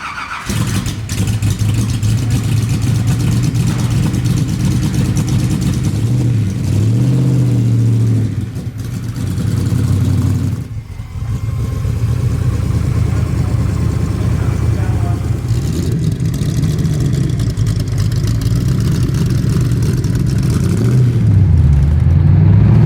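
A DeTomaso Pantera with a widebody GT4 kit runs loud and close, its engine droning steadily with rising and falling revs as it drives, briefly easing off near the middle, while people talk over it.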